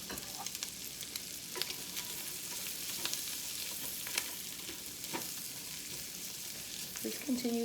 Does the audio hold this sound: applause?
no